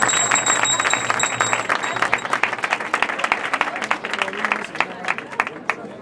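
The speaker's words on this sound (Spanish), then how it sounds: "Un aplauso." Crowd applause breaks out at a street auction during the procession of the Virgin in Nerpio, dense clapping that thins into scattered claps, with a voice and bell-like tones over it early on.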